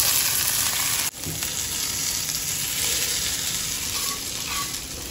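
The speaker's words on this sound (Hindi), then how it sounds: "इस तड़के को हम खिचड़ी में डाल देंगे" Hot tadka tempering of garlic, turmeric and red chilli poured into dal khichdi, giving a loud continuous sizzle with a sharp crackle burst at the pour, then steady frying hiss.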